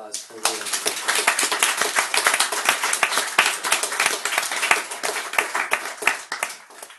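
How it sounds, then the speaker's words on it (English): A small audience applauds after a reading at a university MFA work-in-progress event, crisp close hand claps in a lively continuous round from a modest group. "How about one more round of applause for Lewis?"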